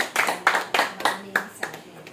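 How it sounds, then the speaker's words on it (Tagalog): A church crowd at an Easter prayer meeting claps in several rhythmic bursts, loud and close, with voices mixed in beneath the applause. "Malakas na palakpak sa Praise ating buhay na Panginoon."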